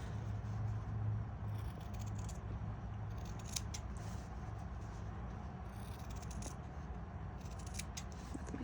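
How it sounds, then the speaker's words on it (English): Scissors snipping through fabric in a few quick bursts, light metallic clicks over a steady low background rumble. "Scissors."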